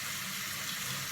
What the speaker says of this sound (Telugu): ఇప్పుడు నేను నీళ్ళు పోసేస్తాను